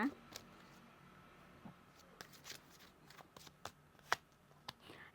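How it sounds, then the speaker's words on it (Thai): Oracle cards are shuffled quietly during a tarot reading, with soft card slaps and flicks scattered over a few seconds while someone speaks in the background. "อุ้ยลืมเปิดไพ่ออร์เคิลเดี๋ยวเปิดไพ่ออร์เคิลเพิ่มนะ"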